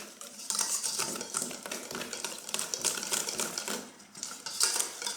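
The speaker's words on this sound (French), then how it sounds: "il faut juste fouetter très très fort" A whisk beats brookie batter with brown sugar and cornstarch in a bowl, producing fast, continuous scraping and clinking strokes close by, uneven in loudness and with no talking.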